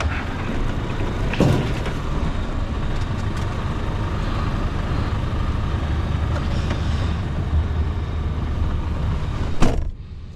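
Excavation dump truck on the move, a steady, fairly loud engine rumble and road noise heard from inside the cab, with a couple of brief clunks or door-like knocks near the start and end.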